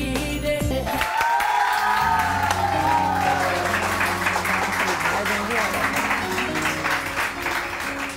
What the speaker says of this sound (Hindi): और जी बहुत सारी तालियां, बहुत सारी तालियां।